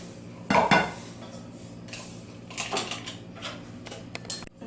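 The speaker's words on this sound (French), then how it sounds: "Pendant que vous mélangez la farine et la semoule" Flour and semolina being mixed in a bowl in a home kitchen, with clinks and scraping knocks of a utensil against the dish, a louder burst at first and then softer irregular stirring.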